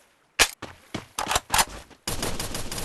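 MP5 submachine gun fire in the shooting game Free Fire: several sharp, separate bursts crack out, then give way to one sustained, loud volley at the end.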